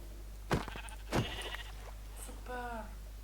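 Sheep in the Minecraft video game bleat in a few short, sharp calls with gaps between them, each one clear and close, over a low steady background hum.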